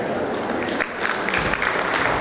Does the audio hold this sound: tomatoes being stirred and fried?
no